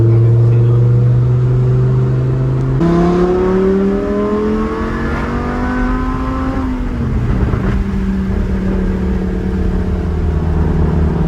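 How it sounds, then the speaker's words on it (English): A Lamborghini Huracan LP610 engine revs hard and loud up close, the exhaust note climbing in pitch through a sustained pull, dropping, then settling into a steady drone with no talk. "Exhaust note on this thing is so sick though."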